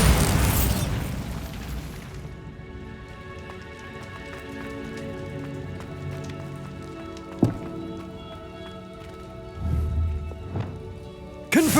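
A Bombarda spell explosion in Hogwarts Legacy opens with a loud burst, then fades into a long ringing, rain-like patter of falling debris and a few sharp later pops and thuds.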